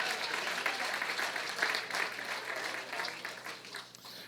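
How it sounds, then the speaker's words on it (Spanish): Church congregation applauding during a sermon, a steady, fairly soft wash of many hands clapping at mid distance that tapers slightly toward the end. "Si ese aplauso es para Cristo, déselo con deseo, con ánimo,"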